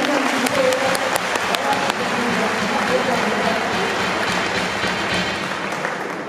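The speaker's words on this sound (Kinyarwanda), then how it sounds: "Dukomere amashyi menshi cyane" Applause from an audience at a youth awards event, a dense, steady wash of many hands clapping that holds for several seconds and eases slightly toward the end.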